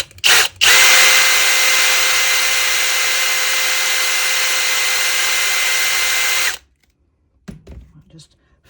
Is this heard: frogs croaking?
no